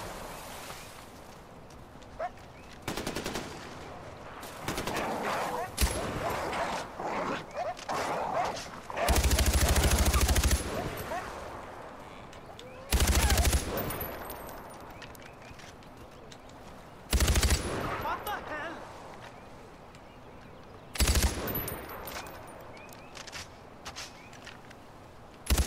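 Repeated bursts of loud Far Cry 4 gunfire punctuate a long stretch of game action, with automatic fire in short volleys separated by quieter gameplay noise and a few sharp single shots.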